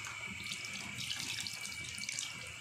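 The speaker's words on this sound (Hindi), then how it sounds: "तो थोड़ा सा पानी शामिल करूँगा" Tap water running steadily into a pot of potato and egg kofta gravy, a continuous splashing hiss with no pauses, close and even in level.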